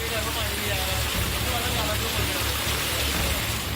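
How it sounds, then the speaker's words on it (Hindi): Heavy monsoon downpour over a flooded town in Uttarakhand, a dense, steady roar of rain with a low rumble underneath, continuous and loud throughout. "मूसलाधार बारिश से शहर जलमग्न है।"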